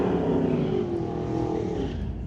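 A 1931 Ford drag race car launches at an NHRA Summit ET bracket race, its engine a loud sustained roar that eases slightly toward the end as the throttle is lifted.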